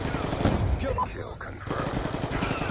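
Automatic gunfire in the PC shooter Black Ops 2, a rapid burst of rattling shots loud and close, with a speaking voice over the game audio.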